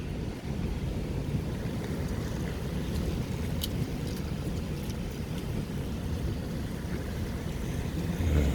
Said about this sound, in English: And this is a pretty light rainfall too